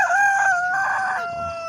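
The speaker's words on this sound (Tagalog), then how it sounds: "Ito yung mga manok natin, oh." A backyard rooster on a farm with spacious grounds crows once in the morning, a single clear and fairly close drawn-out call that fades at the end.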